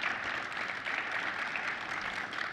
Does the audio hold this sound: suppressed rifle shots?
no